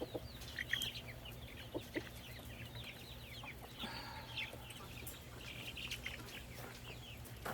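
Chickens cluck softly in a garden yard, with brief scattered calls and chirps over a steady low hum of background noise.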